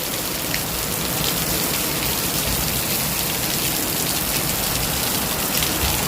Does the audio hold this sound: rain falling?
yes